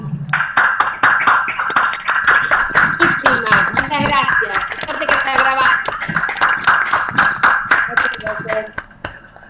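Applause at the end of a talk on the Quilmes cemetery, with participants' opened microphones picking up crisp claps in an irregular patter, mixed with voices talking over it before it fades near the end.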